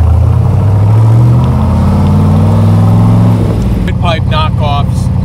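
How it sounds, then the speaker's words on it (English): A 1967 Corvette C2 with a 427 Tri-Power V8 and four-speed, its engine idling with a deep, loud burble that rises briefly, with a voice talking over the engine. "I mean, listen to the sound of this car."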